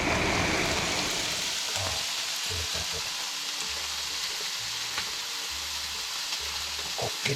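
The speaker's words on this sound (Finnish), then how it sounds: "Tulee vähän vettä taivaalta." Rain patters steadily on a roof at a gold-panning camp in Lapland, a constant soft hiss with scattered drips, and a few low knocks and rumbles underneath.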